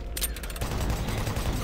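Gunfire in the Doom 3 video game, a short rapid burst of shots rattling out over a couple of seconds at moderate level, with no voice over it.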